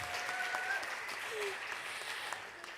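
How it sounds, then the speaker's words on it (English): A room full of people claps steadily for a few seconds, soft and somewhat distant, with faint murmuring underneath. "Have a round of applause for our friendly innkeeper."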